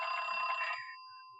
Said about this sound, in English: I wasn't sure whether I'd heard the bell or not.